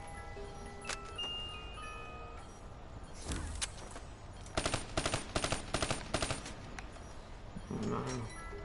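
Gunfire in the zombie campaign of the video game Call of Duty Black Ops 3, with several close, loud automatic bursts in the middle and later a shorter burst over low background game noise.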